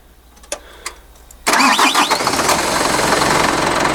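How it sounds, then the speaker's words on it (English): Two faint clicks, then a Mitsubishi Fuso FG140 diesel truck engine cranks and fires loudly after a fuel filter change, settling into a rough, rumbling idle that carries on to the end. "Okay, the engine has been idling for about 7 minutes now"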